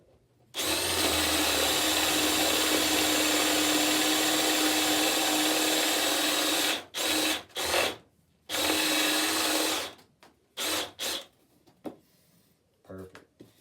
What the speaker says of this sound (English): So I got my my Fastener bit ready. Tighten up a little bit.